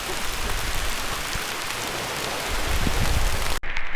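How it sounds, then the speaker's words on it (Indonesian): Steady heavy rain pours down during a trek, a dense loud hiss with scattered drop impacts that swells slightly toward the end before cutting off briefly. "Tim jalan-jalan hujan."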